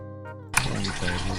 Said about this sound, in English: Interact with the lagering vat and transfer beer to pouring table